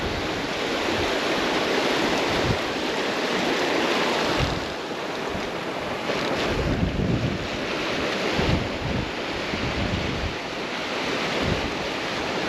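Surf rolls and breaks continuously on a beach during snapper fishing, a loud broadband wash of waves with wind buffeting the microphone and no voices.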